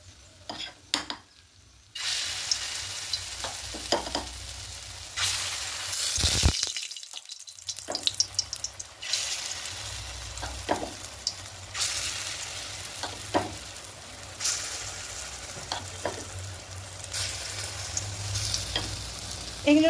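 Masoor lentil fritters sizzle steadily in hot oil, a dense crackling hiss with occasional clinks and scrapes of stirring, loud and close throughout.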